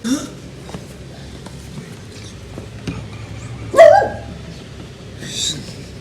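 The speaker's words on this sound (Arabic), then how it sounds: "شوف الكلب" A dog gives a single sharp bark midway, with a few fainter yelps around it, against a background of low room noise and occasional knocks.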